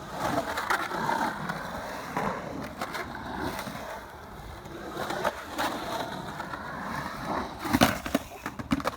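Skateboard wheels rolling over rough concrete at a DIY skate park, a steady close grinding rumble with scattered clacks and a sharper knock near the end.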